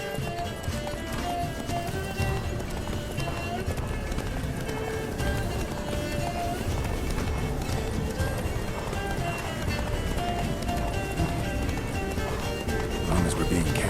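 Roach, Geralt's horse in The Witcher 3, galloping steadily with a continuous rhythmic clip-clop of hooves over game ambience, with voices talking intermittently.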